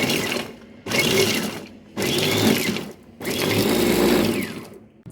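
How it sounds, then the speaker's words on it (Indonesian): An electric grinder purees tomato, onion and spices for an Indonesian home-cooked dish, whirring loudly in four close bursts separated by short pauses. "kasih tomat, bawang, langsung giling aja"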